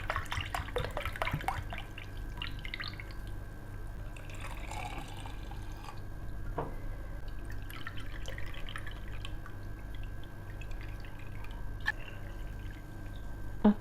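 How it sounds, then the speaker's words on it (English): Apple cider vinegar trickles and drips over garlic in a jar, with soft splashes and scattered drops against a quiet background and no talk. "Every 1 cup of garlic, I measure out 2 cups of vinegar."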